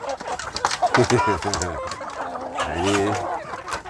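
Free-range village chickens and a rooster clucking in repeated short bursts close by, with someone talking over them.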